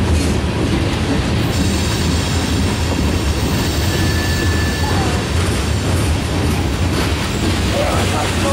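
A CSX freight train rumbles past at close range during a railfest in Fostoria, a loud continuous roll of wheels and cars with metallic squeals and clacks running the whole time.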